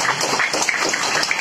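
Applause from an audience at an Indonesian Islamic religious gathering with a sermon, a steady dense patter of clapping that runs without a break for the whole moment.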